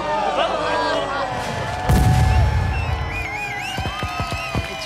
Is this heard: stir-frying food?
no